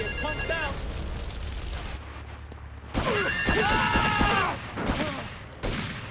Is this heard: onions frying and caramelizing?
no